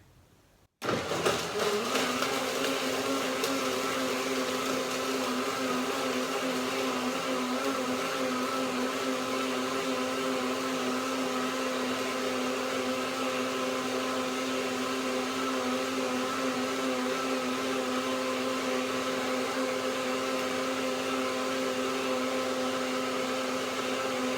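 A blender motor roars steadily and loudly after a brief quiet start, holding a constant whirring pitch throughout with no talk.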